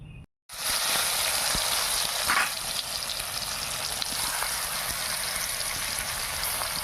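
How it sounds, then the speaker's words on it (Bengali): Ash gourd leaves fry in hot oil with a loud, steady sizzle that starts abruptly after a short pause and keeps a constant crackling hiss. "এবার ভাজবো।"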